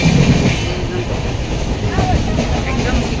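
A passenger train runs along the rails, a steady rumbling rattle with faint clickety-clack heard from inside the carriage, continuous and fairly loud throughout.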